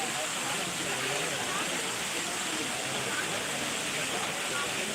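Warm water pours steadily at a natural hot spring in Tuscany, a dense, continuous rushing wash like a small waterfall, close and constant, with a voice speaking faintly underneath.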